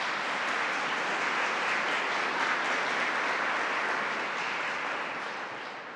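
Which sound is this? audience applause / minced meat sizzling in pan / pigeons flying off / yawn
audience applause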